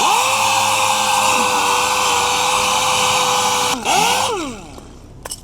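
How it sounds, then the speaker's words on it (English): A power sander with 120-grit paper works over delaminated car paint, a loud steady close whine that holds its pitch, then dips, revs again and winds down near the end. "I've just got to feather this out and give it a really good sand"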